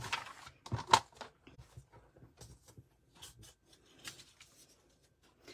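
Craft paper cutter slicing cardstock to 9 inches for a tiered slider card, heard as a series of short dry scraping and rasping strokes, close and fairly quiet, with brief pauses between passes.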